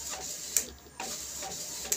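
An Epson L3110 inkjet printer prints a photo on 180 photo paper with 003 bulk ink, giving a faint mechanical whir with sharp ticks and clicks as the print head shuttles back and forth.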